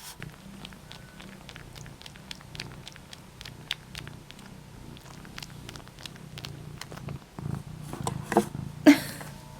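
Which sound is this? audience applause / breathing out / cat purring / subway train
cat purring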